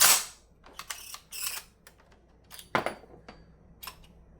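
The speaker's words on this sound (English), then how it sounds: "And if I slow cycle this, every round will feed, I guarantee it." An M1 Garand rifle action is slowly worked by hand, giving a string of close metallic clicks, ratcheting scrapes and sharp clacks of the bolt and follower, with no voices.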